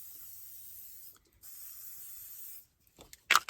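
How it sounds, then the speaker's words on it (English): A spray can hisses onto feet in two steady bursts, each about a second long, followed by a few short sharp sprays and clicks close by. "So I can spray them one time."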